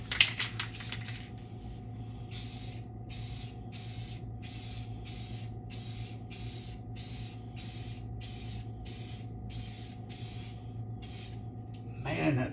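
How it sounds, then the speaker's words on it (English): A spray coating is applied onto a solar panel in a long run of short, even hissing bursts, close and steady, with a continuous low hum underneath and a louder rustle at the end. "and then you want to spray it again."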